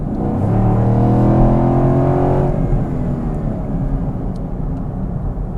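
A Chevrolet Camaro by HSV accelerates hard on an open road, its engine note climbing loudly through a steady revving pull for about two and a half seconds before settling into a sustained cruising drone.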